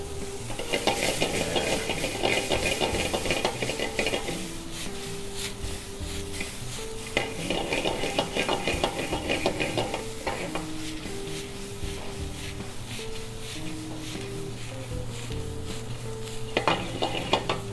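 Mushrooms sizzling in a pan with butter and salt, a steady loud frying hiss with repeated stirring scrapes and utensil clatter, close up and with no talking.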